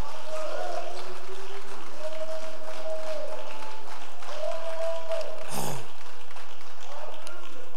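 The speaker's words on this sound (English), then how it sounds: "Just go ahead and clap right there." A church congregation claps together in a dense, sustained wash of applause that fills the room, with voices and murmurs mixed in beneath it.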